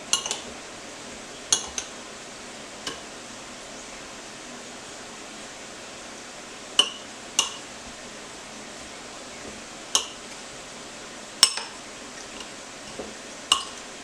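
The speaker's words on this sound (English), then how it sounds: "Give me a spoon. Stir this about." A spoon stirs a salted pico de gallo mixture of chopped tomatoes in a bowl, giving scattered sharp clinks every few seconds over a quiet background, with no talking.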